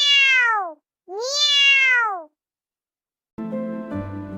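A voice imitates a cat, giving two drawn-out meows one after another, clear and close, followed by a brief burst of music.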